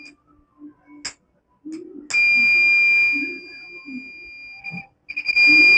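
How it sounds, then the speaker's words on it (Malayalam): A flame sensor module's buzzer goes off when a lighter flame is held to it. It gives a shrill, steady electronic tone for about two and a half seconds, breaks briefly, then sounds again, with a voice heard before it. "ബസർ അടിക്കുമ്പോൾ"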